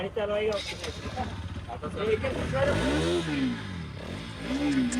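A new Bajaj Pulsar NS 200 motorcycle engine rumbles and revs up and down in rising and falling swells through a heavy silencer, heard alongside people talking nearby.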